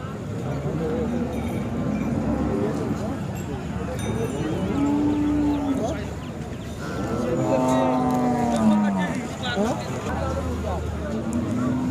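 Khillar cows at the Sangola cattle market give a few drawn-out moos, one near the middle and a longer one later, amid steady crowd chatter and people talking close by.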